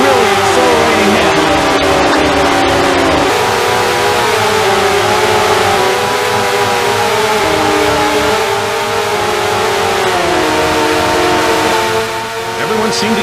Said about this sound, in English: this guy is really accelerating now